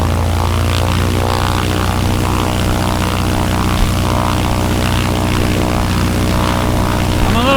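Strong 30 mph wind blasting steadily against a tent during a tent test, a loud continuous roar with whirring tonal hum like a fan or propeller, sustained throughout with no talk.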